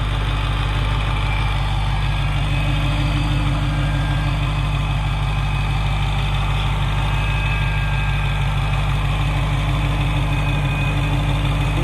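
Supercharged 2015 Dodge Challenger SRT Hellcat with a manual gearbox, at about 3,500 miles, idling steadily and close by, its low rumble carrying a faint, fast, even ticking from the fuel injectors, with no voices over it.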